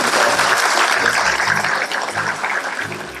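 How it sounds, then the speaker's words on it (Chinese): Warm applause from the audience at a Christmas charity fundraising event, a dense, loud wash of clapping that carries through with no break, with a faint murmur of voices underneath. "我在这里请大家和我一起热烈的掌声"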